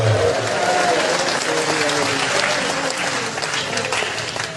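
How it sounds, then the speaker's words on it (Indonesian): A congregation at an evangelistic revival service in Tompaso Baru claps hands loudly and continuously, a dense steady wash of applause that tapers slightly toward the end. "Semua kita tepuk tangan bagi Tuhan Yesus. Tepuk tangan di atas kepala lebih keras."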